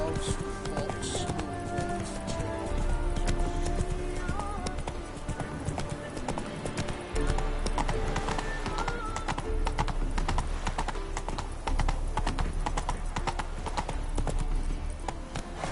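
Roach, the horse from The Witcher 3, gallops in a steady, fast clip-clop of hooves under continuous game music and sound effects, with talk heard over it throughout.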